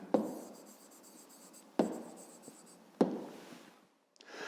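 Pen strokes on paper while an answer is written out by hand: three sharp, quiet scratching marks spaced about a second apart, each trailing off, with a soft rub near the end.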